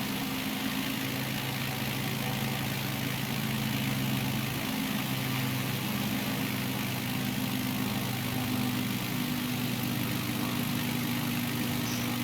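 Steady aircraft engine drone in Microsoft Flight Simulator, a continuous loud hum with a low tone that dips slightly midway, heard alone without speech.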